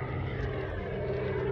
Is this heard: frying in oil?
no